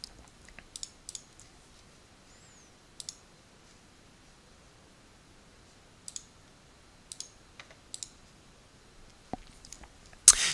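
Sparse computer mouse clicks while working through sheet icons in architectural software, single and paired sharp clicks spaced irregularly over near silence, with a louder click burst at the end.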